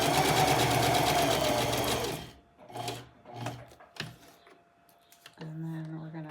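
Sewing machine stitching for a junk journal, running in a steady fast rattle for about two seconds, then stopping and starting in short bursts while the stitch is switched between straight and zigzag, ending with another sustained run.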